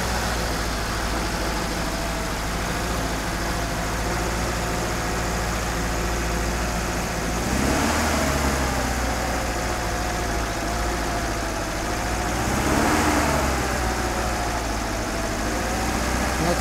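A carbureted car engine idles steadily with a low, even rumble, swelling slightly twice as the revs rise briefly.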